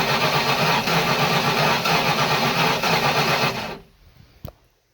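Old boat engine cranking over during a spark plug test with the plug out and grounded, a loud rhythmic churning for several seconds that stops abruptly, followed by a faint single click.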